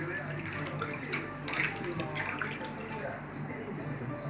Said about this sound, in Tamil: மீன் கழுவுறாங்க